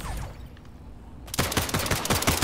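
SMG fire in the arena shooter Splitgate: after a quiet, faintly humming lead-in, a rapid, even stream of loud shots rattles out for over a second, closely spaced and punchy.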